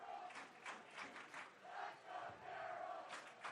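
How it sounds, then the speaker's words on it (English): Student section crowd at a Carroll high school football game, a steady wash of distant cheering and shouting with swelling bursts, heard from afar under the game atmosphere. "Hear a little bit of noise from the Carroll student section"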